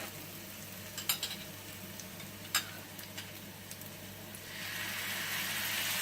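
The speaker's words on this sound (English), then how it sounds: "3 to 4 cloves of garlic, finely chopped garlic. Let's saute this." Finely chopped garlic, three to four cloves, sautéing in a pan with soy sauce: a soft, steady sizzle with a few sharp utensil clicks, the hiss swelling louder toward the end, no talking.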